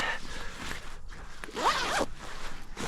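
A zipper is pulled in a quick burst of rasping strokes on winter camping gear in a snowy cold-weather camp, close and fairly loud, with soft rustling of fabric around it and no talking.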